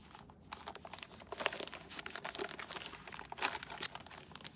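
Crinkly plastic wrapping on a Spider-Man Secret Wars suit package is pulled open by hand, a dense run of close crackling and tearing crunches lasting throughout with no talk.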